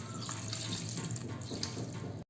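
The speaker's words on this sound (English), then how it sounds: "So now I'm gonna add 4 glasses of water." Water runs steadily into a cooking pot of veg biryani being prepared, a close continuous splashing pour that lasts a couple of seconds before stopping abruptly, with no talk over it.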